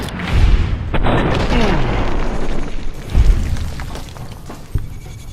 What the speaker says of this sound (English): Oh, grenade. Yeah, grenade launcher.